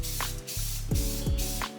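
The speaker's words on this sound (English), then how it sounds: "Using some Duplicolor 1K Clear, I go ahead and spray paint the tongue heavy enough to look like it's like dripping wet" Duplicolor 1K Clear spray can coating a 3D-printed Venom mask's tongue, several close hissing bursts separated by short gaps and faint can rattle, with no talk.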